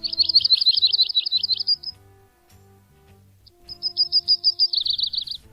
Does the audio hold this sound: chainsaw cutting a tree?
no